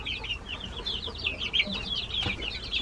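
Cochin chickens in a coop give soft, repeated clucks and chirps at moderate distance over a low background rumble.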